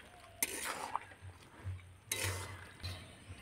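Boondi being stirred through sugar syrup in a pan with a spoon, giving a few soft scraping strokes and light clinks against the metal, close and quiet, with no talking.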